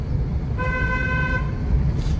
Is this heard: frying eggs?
no